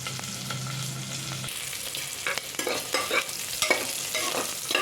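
Cashews frying with onion, green chilli and curry leaves in hot oil, a close, continuous sizzle with a low hum at first, then irregular stirring scrapes and crackles.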